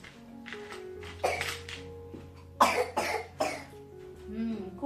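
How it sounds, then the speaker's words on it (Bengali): A person coughs in several harsh bursts at close range, spread over a few seconds, with a low steady background hum and faint clinks. "খুব কাশি।"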